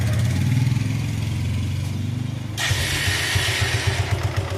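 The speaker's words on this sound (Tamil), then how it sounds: "இப்போ வண்டி ஸ்டார்ட் பண்ணுறேன் பாருங்கள்." A motorcycle engine with a smoke problem cranks and catches, then settles into a steady, throbbing idle with a brighter hiss joining partway through.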